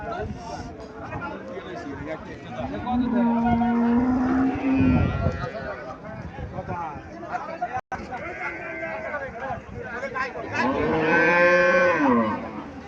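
A cow lows loudly and repeatedly at a rural cattle market in Cumilla, Bangladesh, where desi and Haryana-type cows are sold; drawn-out moos rise over crowd chatter and people talking nearby.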